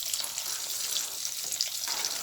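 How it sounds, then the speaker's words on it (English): Onions and garlic hitting a hot pan as seasoning for country-style fried chicken, a dense, bright hiss of frying that stays steady and close throughout a brief moment, nothing spoken over it. "I'm gonna add the seasoning now, adding the onions, the garlic"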